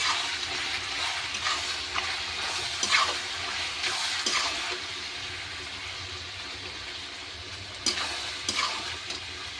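Chicken skin fries with salt and turmeric in a pan, giving a moderate continuous hiss. Occasional scraping and stirring sounds come through, with a couple of louder bumps near the start and end, and there is no talk.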